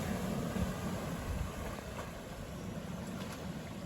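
A 4WD vehicle cruises through a shallow creek crossing on the Telegraph Track in Cape York, producing a continuous wash of water splashing and engine rumble, fairly loud and steady throughout.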